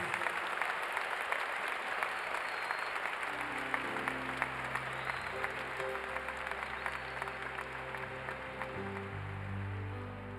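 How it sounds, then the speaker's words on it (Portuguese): Congregation at a church Mass applauding together. The clapping is steady and fairly full throughout, and sustained organ-like notes rise underneath from about a third of the way in. "Aplaudamos com força."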